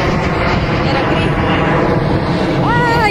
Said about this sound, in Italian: aspettiamo che passa l'aereo.